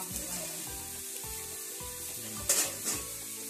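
Chopped mushrooms sautéing in a pan for a mushroom gravy: a quiet, steady sizzle with rhythmic stirring strokes and a couple of brief sharper hisses near the end.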